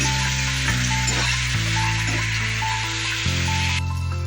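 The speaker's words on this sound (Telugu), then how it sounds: "ఇది బాగా ఆయిల్లో ఫ్రై అయిపోయింది" Gongura leaves and peanuts fry in hot oil for a gongura roti pachadi, giving a steady, close sizzle with a low background hum and no talking.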